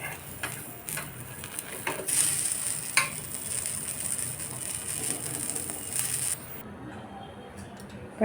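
A veg omelette frying in a kadai gives off a bright continuous sizzle with occasional spatula scrapes and taps, loud and close for several seconds before the hiss drops away near the end.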